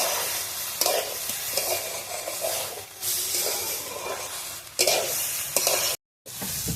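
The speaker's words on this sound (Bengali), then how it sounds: "ভালোভাবে নাড়াচাড়া করে নিচ্ছি চালটাকে" Rice being stirred in a hot pan for basanti pulao, a steady sizzling hiss broken by repeated scraping strokes, with a brief drop to silence near the end; no talking.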